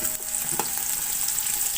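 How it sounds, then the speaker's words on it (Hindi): Long-sliced onions fry in hot oil with a bright, continuous sizzle, broken by a few soft clicks from stirring. "ये 4 मैंने प्याज लिए हैं, लंबे साइज में काट लिए, अब शामिल कर लेंगे।"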